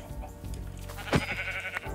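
A sheep bleats in the Minecraft video game, a short nasal call in the middle of a quiet game soundscape, with a couple of fainter bleats around it and no speech.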